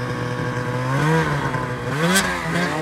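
A turbocharged snowmobile engine drones steadily and loudly as it climbs through deep powder snow, its pitch rising and falling with throttle changes, close and continuous.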